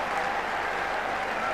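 A cricket crowd applauds Kapil Dev's four consecutive sixes for India, a steady, dense roar of clapping from a large stadium audience heard at a distance, continuous and unbroken.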